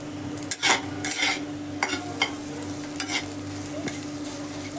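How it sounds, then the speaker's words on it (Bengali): A spatula stirs chowmein into scrambled egg in a hot pan, with sharp, irregular scrapes and clatters over a soft, steady sizzle, close up and without talk. "এই চাউমিনটি ডিমের মধ্যে মিক্স করব।"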